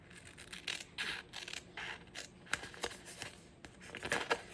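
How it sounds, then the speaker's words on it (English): Quiet, repeated snipping and rubbing scissor sounds in irregular bursts, close up, with no talking. "cute little cat paw scissors."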